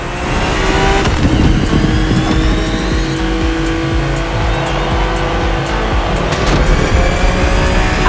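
A BMW race car in the video game The Crew Motorfest, its engine revving hard and loud through gear changes with tire squeal, a continuous close-up racing roar and no talk.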